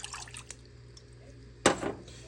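A half cup of water poured into a bowl for cinnamon roll dough, heard as a short, fairly close splash and trickle near the end after faint background noise.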